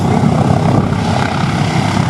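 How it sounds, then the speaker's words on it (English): Hawker biplanes with two-bladed fixed-pitch wooden propellers flying at the Flying Legends airshow, a loud steady droning engine roar that holds throughout, nearby and continuous. "These engines were bolted to wooden propellers,"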